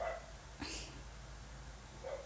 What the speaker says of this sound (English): I don't know why the dog is barking again.